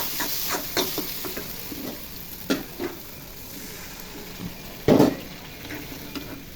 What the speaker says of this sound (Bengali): মশলা ভাজা ভাজা হয়ে গেছে, এখন পরিমাণ মতো পানি দিয়ে দেবো।